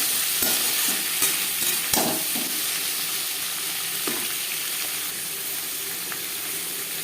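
Tomatoes and onions fry in fresh oil in a wok previously used to fry tilapia for fish curry, giving a dense, loud, continuous sizzle with a few sharp stirring scrapes early on, close and steady, without speech.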